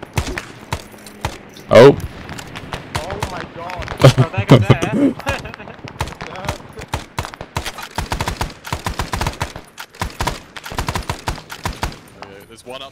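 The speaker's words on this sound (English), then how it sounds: "Well, they're shooting." Gunfire from the military shooter Arma 3 during a jungle convoy operation: rapid bursts of sharp shots and scattered single cracks, some near and loud, others distant, with a player talking briefly over the firefight.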